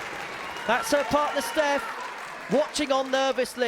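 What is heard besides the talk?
crowd applauding at a darts match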